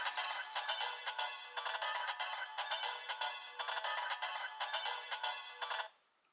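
A soft, tinny electronic ringtone from a foam toy Kamen Rider Hiden Risephone plays in repeating bursts for several seconds, then stops; quiet and thin, with no talking.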